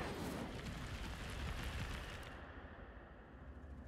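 The Incendio fire spell is cast in Hogwarts Legacy, letting out a loud roaring whoosh of flame with a rumbling burst that swells for about two seconds and then fades into a softer crackle.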